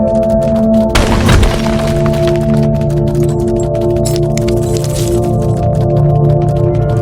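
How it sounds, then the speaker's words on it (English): Rocks smashing in the video game Gris, a sharp crashing burst early on over a steady layered musical drone, with the low rumble of the impact fading into the sustained tones. "the sounds of rocks being smashed"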